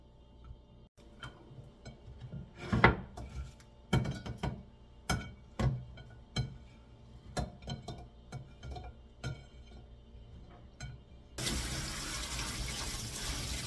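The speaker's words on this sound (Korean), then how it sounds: "감자는 녹말 때문에 이렇게 물에다 헹궈 주셔야 돼요." Julienned potato strips are rinsed in water to wash off the starch. Scattered clinks and splashes are followed near the end by a steady rush of running water.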